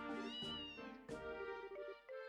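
A cat in the video game Trails in the Sky SC meows several times in a row, clear and close, with a steady tonal backdrop running underneath.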